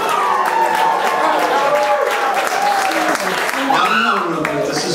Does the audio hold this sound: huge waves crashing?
no